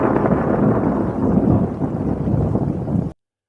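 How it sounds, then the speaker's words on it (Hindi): Heavy rain with thunder as a sound effect, a dense loud roar of rainfall with low rumbling swells that lasts about three seconds, then cuts off abruptly to silence. "तेज बारिश हो रही थी और कड़ाके की बिजली अंधेरे को चीर रही"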